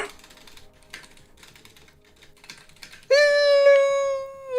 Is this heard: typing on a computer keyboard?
yes